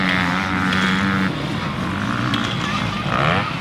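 A KTM 350 SX-F motocross bike, started on its electric starter, runs close by with a loud, steady four-stroke engine drone and a slight rise in revs at the end, outdoors at a motocross track.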